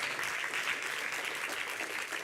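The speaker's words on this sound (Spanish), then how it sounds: "denle un aplauso si quieres" A church congregation applauding during a sermon, a continuous, dense wash of many hands clapping at even loudness throughout.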